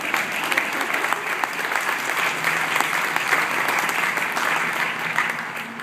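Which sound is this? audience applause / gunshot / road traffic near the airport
audience applause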